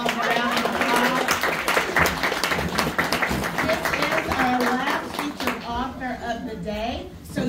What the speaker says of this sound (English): Can we give Miss T. Dianne Bellamy Small a round of applause?